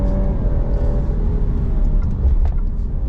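An Alfa Romeo Giulia Competizione, 2023 facelift, in dynamic mode, with a low rumbling exhaust drone from inside the moving car, steady and moderately loud with a faint whir above it.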